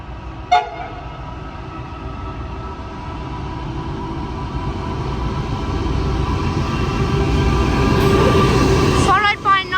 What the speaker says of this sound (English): NR8's the leading locomotive